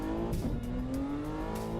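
A car engine drones steadily in the racing game Assetto Corsa on PC, driven on the Shutoku Revival Project highway track, its pitch rising slowly as it accelerates, close and continuous with no talk.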